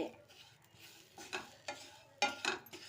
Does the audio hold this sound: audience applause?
no